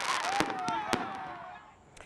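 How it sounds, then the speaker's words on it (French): Fireworks crackle and pop during an outdoor New Year's concert in Bassam, with several sharp bursts over a dense, noisy crowd background. "marqué par des feux d'artifice."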